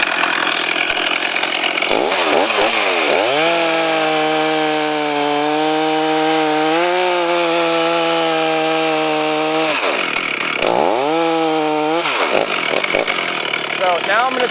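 A chainsaw cutting a kerf into a log, loud and close, rising in pitch as it revs, then holding a steady bogged-down whine through the cut before winding down and revving again.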